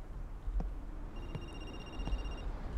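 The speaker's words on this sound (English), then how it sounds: "Where's that ringing from?" A telephone rings in a creepy house in the game Linger, its repeated electronic trill sounding in several bursts at moderate volume over a dim, quiet background.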